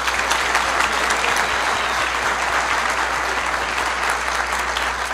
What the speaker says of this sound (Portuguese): Uma salva de palmas pra ela ter aberto a boca.